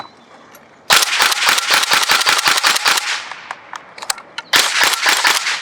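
A Tokyo Marui Recoil Shock SCAR-H airsoft rifle fitted with a gate unit fires two loud, rapid full-auto bursts of sharp, clattering shots, close by, separated by a brief pause with scattered single shots.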